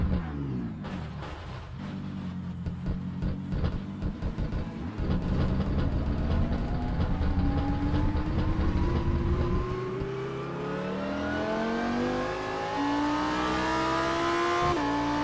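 A Lamborghini STC race car in a racing game at Laguna Seca, its engine loud and close, revving hard with rising pitch through the gears, a brief drop around a lift, then climbing again.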